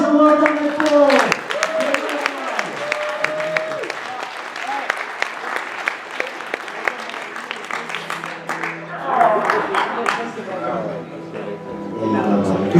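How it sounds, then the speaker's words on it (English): An indoor audience at a gaming tournament applauds the grand tournament champions, sustained dense clapping rolling on throughout, with voices talking over it toward the end. "Big round of applause for the guys and well done their ball."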